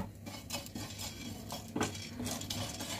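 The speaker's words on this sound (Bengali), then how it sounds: "একটা সুন্দর গন্ধ ওঠা অবধি আমি এইভাবে এটাকে শুকনো খোলায় ভালোভাবে ভেজে রোস্ট করে নেব" Whole cumin and black peppercorns dry roasting in a dry pan, with soft continuous scraping and clinks of a metal spoon against the pan, close and fairly quiet.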